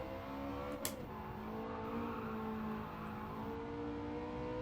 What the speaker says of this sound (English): It sounds like a Ferrari.